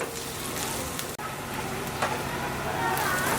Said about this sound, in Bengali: পেঁয়াজটা আর একটু ভাজবো আমি